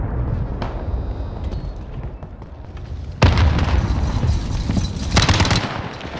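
Loud 12-gauge shotgun blasts with 00 buckshot in Call of Duty Modern Warfare gameplay, a sharp report around the middle and another near the end over constant game background noise.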